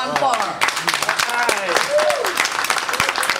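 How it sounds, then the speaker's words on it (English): An audience applauds a drummer introduced at a live music event. The continuous clapping comes mixed with loud voices and shouting from the crowd throughout the few seconds. "Please give a nice warm applause for John Farr."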